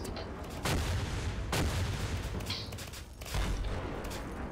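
Tank gunfire in the PolySquad video game: three or four heavy booming blasts about a second apart, each with a rumbling tail, fairly quiet overall amid steady game noise.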